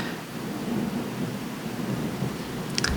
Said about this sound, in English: Another crash of thunder.